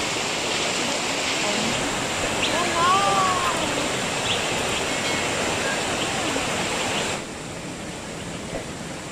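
A river flowing near a waterfall on a jungle trekking trail keeps up a steady broad rushing wash, with a brief chirp partway through before the sound drops slightly softer.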